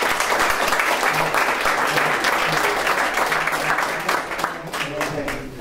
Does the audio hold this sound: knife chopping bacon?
no